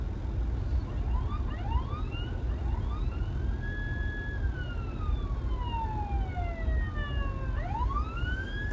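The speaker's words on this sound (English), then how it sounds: "Ambulance." An ambulance siren wails past on a street in White Rock, Surrey, its rising and falling tone sweeping up and down clearly and loudly above steady traffic rumble.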